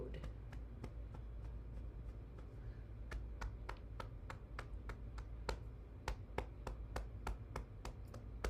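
Repeated sharp hand claps during a morning healing and bouncing exercise, spaced at a steady rhythm and getting quicker, with a low rumble of movement underneath.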